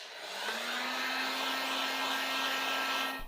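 A hair dryer blows steadily on chameleon window tint film being fitted to a Citroën Ami, a continuous close, loud whooshing airflow with a constant motor whine running for about three seconds, no talking.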